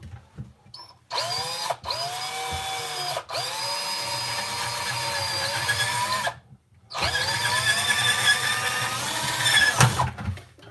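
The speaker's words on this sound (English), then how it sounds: "So what I do is I drill it right at the top here like this." A power drill bores holes near the rim of a plastic vermicomposting bucket, its high whining motor running in several sustained bursts split by brief pauses, loud and close.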